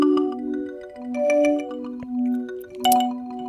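A granular synthesis pad built from looped marimba samples with a softened attack plays sustained, swelling tones in overlapping layers, rising and falling in loudness with a few brighter grainy flickers, alone and fairly clear.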